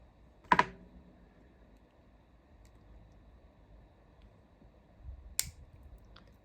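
Wire cutters snip the ends of jewelry wire on a wire-wrapped cabochon pendant, two sharp, close clicks separated by several seconds of quiet.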